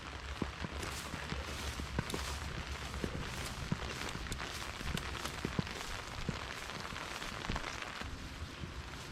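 Steady rain patters on butterfly weed and other garden plants, a dense continuous hiss with scattered sharper drips close by, no voices.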